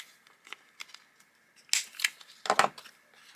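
Scissors snip through paper packaging to trim its corners, a few quiet crisp cuts followed by louder sharp crunching snips, close up with no talk.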